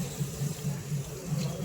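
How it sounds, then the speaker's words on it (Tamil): A train washbasin tap runs water in a steady, soft, close splash with a faint low rhythmic rumble beneath it. "ஸோ தண்ணி வருது."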